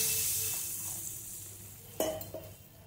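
Dal curry with ambarella simmering on low heat gives a steady soft sizzle, with a spoon scraping and clinking against the pot twice near the end.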